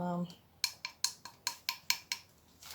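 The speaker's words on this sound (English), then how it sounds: "Let's stir that up." Oats porridge being stirred in a pot, about eight evenly spaced, crisp clinks of a spoon against the pot, close and fairly loud, after a brief tone at the start.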